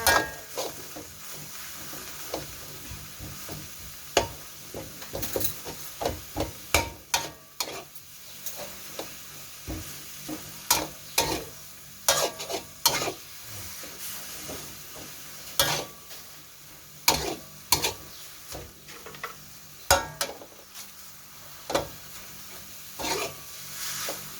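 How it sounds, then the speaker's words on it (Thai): Pork sukiyaki noodles are stir-fried with a pinch of sugar in a hot pan: a steady sizzle runs underneath repeated sharp spatula scrapes and taps that come in an uneven rhythm, close and moderately loud. "แล้วก็ผัดเลยค่ะ"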